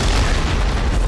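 A loud, deep bomb blast from the action game Sir Whoopass fills the whole moment as a sustained, heavy rumble with no voices.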